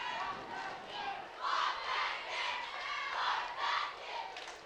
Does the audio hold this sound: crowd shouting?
yes